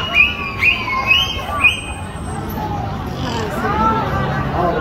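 High, thin dolphin squeals and whistles rise and fall in a quick series at a dolphin show at the Mirage in Las Vegas, with a crowd murmuring and chattering steadily underneath.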